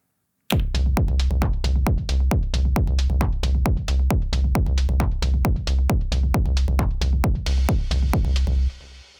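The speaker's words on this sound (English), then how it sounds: "the clap pattern will sound like this." A steady Elektron Syntakt drum machine pattern of sharp, punchy claps over a thumping low beat, repeating evenly in quick succession and stopping abruptly at the end.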